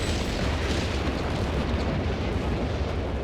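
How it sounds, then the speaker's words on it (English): Artillery explosions in the game Company of Heroes 3, a dense continuous rumbling roar of overlapping blasts and booms, loud and broadband with no clear gaps between impacts. "Artillery hitting the west and retreating units."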